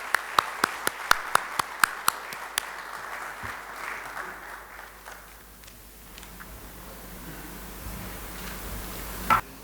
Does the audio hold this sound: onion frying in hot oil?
no